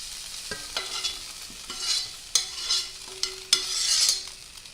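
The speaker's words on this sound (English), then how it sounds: "Alright, I'm gonna dump my onions." Chopped onions are dumped into a hot pan and start frying, with sharp clanks of a utensil against the pan over a rising, steady sizzle.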